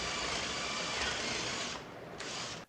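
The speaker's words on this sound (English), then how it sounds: "I'm just going to drill some shallow holes into this plain piece of 2x4." A small power drill whirs steadily for a couple of seconds boring shallow holes into a 2x4 board, drops briefly, then spins up again for a short burst before stopping.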